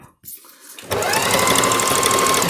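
An Elna 3210 sewing machine starts up after a brief quiet moment and runs in a loud, steady, close stitching whir.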